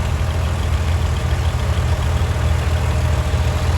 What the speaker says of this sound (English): Next we have a 1969 Oliver 1650 owned by Lamar Weaver of Ephrata. This was a family tractor.